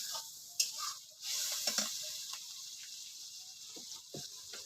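Shrimp sautéing in a pan, a steady soft sizzle with scattered scraping stirs and light clicks from a utensil, close by.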